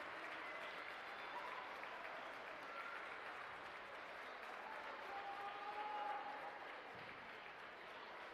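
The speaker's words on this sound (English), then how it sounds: "Round of applause for everybody leaving the court" Spectators at a postseason girls high school basketball game, Okoboji at Unity Christian, applaud players leaving the court; a steady, even wash of crowd clapping fills the gym, moderately distant, with faint murmur underneath.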